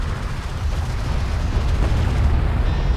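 Explosions from the real-time strategy game Homeworld: Deserts of Kharak, a dense, continuous roar of booming blasts and rumbling artillery-like bursts, loud and sustained with no pauses.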